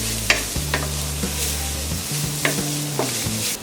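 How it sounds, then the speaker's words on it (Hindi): Grated coconut frying in a pan for ukdiche modak, with a soft sizzle and repeated spatula scrapes and taps at an irregular pace, under background music. "इसमें डालेंगे ये ग्रेटेड कोकोनट, और इसे 2 मिनट तक हम फ्राई करेंगे"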